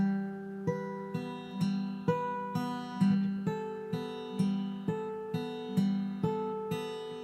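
A clean guitar riff of plucked notes, hybrid picked with an open B, repeating in a steady, bouncy pattern, each note ringing briefly, played alone and close.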